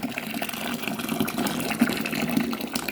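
About 1.7 liters of boiling water poured from a kettle or pan into a vessel of rhubarb for making wine, a steady close splashing gush running for about three seconds.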